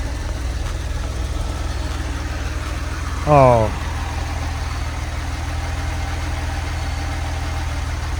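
A Porsche engine idles in a low, steady rumble throughout, with a short spoken exclamation briefly rising over it.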